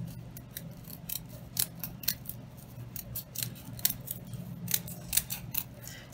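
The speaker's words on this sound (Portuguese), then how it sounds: "Vou cortar do lado de cá" Scissors snipping through felt fabric to cover a springtime embroidered headband, a quick run of crisp close-up cuts with irregular spacing over a low steady room hum.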